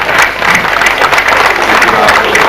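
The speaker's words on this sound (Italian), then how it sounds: "Un applauso per l'autore Luigi Pava qui presente." An audience at a folk poetry gathering claps for a local author, a loud, sustained burst of hand clapping with individual sharp claps standing out, close and continuous throughout.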